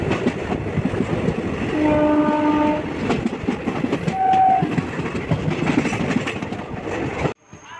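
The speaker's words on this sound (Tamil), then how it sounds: "குருவாயூர்லேருந்து சென்னை எக்மோர் வர குருவாயூர் எக்ஸ்பிரஸுக்காக தாங்க நம்ம ட்ரெயின் சிக்னலுக்காக வெயிட்" Guruvayur Express bound for Chennai Egmore rolls past close by, a loud, steady rumble and rattle of wagons with several sustained horn blasts partway through, then the noise cuts off abruptly near the end.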